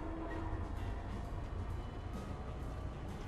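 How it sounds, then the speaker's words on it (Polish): A train in the video game Apex Legends pulls away from a stop, giving a steady, dense mechanical rumble with rattling, sustained throughout at moderate level with no talk. "Pociąg rusza. Lepiej szybko wsiadać."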